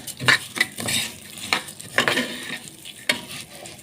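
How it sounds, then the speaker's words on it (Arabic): Vermicelli sizzles as it fries in butter or oil in a pan, with repeated stirring scrapes and clinks of a utensil, close up and steady, no voices. "جبت معلقه كبيره زبده او سمنه او زيت، واحمر فيها كوبايه شعريه"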